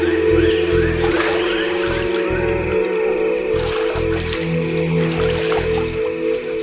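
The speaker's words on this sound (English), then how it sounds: "It drives its feet down so hard and so fast that it never sinks deeper than a few inches." A basilisk lizard sprints across a water surface, its feet slapping the water in rapid, squishy splashes over a steady low background hum, fairly close and continuous.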